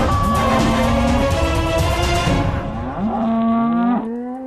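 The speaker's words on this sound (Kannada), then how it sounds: "ಇದಂತೂ ಹಸುಗಳು ಕೂಗ್ತಿರೋ ಹಾಗಿದೆ." Several cows moo loudly and close by, long drawn-out lowing calls that overlap, one fading out before another begins, with no talk over them.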